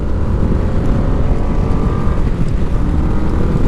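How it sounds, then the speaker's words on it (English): A Yamaha VMAX motorcycle engine with stock exhaust runs close by with a loud, gritty, throbbing exhaust rumble that stays steady throughout. "it's got stock exhaust on it, but it still sounds pretty mean."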